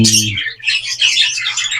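Society finches give bright, high chirps and twittering calls close by, loud and busy across the whole moment, after a brief low hum at the start.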